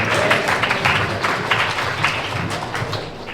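Audience applause fills a Swaminarayan religious gathering in Calgary, a steady, dense wash of many hands clapping at once, close and sustained with no voices over it.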